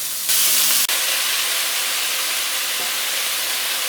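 Squash and onions sizzling in a hot pan, a loud steady hiss that jumps briefly at the start as the squash goes in, then settles into an even frying sizzle with no talk.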